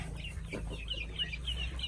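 Native chickens, about 1.5 months old, cluck softly in a rapid, scattered series, somewhat distant, over a low steady rumble.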